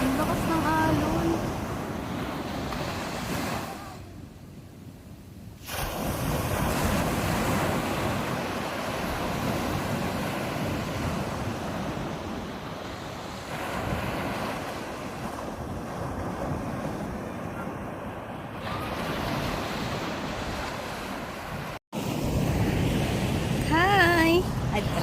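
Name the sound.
strong ocean waves at a beach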